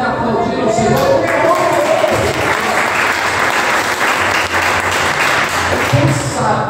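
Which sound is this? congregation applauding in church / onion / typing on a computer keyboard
congregation applauding in church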